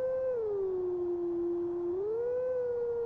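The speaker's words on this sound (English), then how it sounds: "How are you howling?" Wolf Link howls in Zelda Twilight Princess, a single sustained tonal howl that dips in pitch, holds, then rises again, loud and clear over quiet background.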